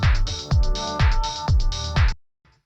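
Four-on-the-floor house kick pattern with low-pass filtered closed hi-hats and a clap, four steady bars looping loud and close before stopping abruptly, for a sampled lo-fi house beat.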